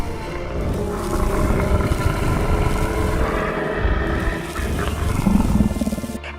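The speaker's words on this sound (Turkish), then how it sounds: "Pig and you've got the sound of a dragon." A loud, growling dragon roar sound effect, built from pig and horse sounds, rumbles continuously with a dense, rough texture, layered animal snarls swelling and receding like a beast's bellow.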